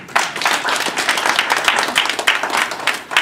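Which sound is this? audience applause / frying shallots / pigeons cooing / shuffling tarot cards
audience applause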